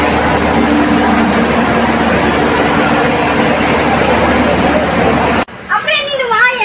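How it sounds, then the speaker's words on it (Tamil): Busy railway station platform beside the waiting Palakkad Express, with a steady low rumble and broad crowd hubbub throughout, then an abrupt cut to a quieter moment where a nearby voice talks. "பாலக்காடு ட்ரெயின் வெயிட் பண்ணிகிட்டு இருக்கு."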